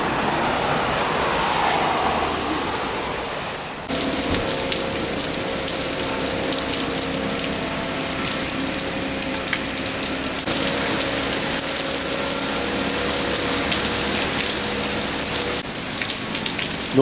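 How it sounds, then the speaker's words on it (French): Heavy rain pouring down in a park in Kanazawa, Japan, a loud, steady, dense hiss of drops hitting the ground that keeps going without a break, and no voices. "comme vous pouvez le constater, il pleut énormément"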